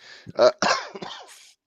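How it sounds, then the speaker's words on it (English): A few rough coughs and throat-clearing sounds come in quick succession, close and fairly loud. "I'm almost over this cough"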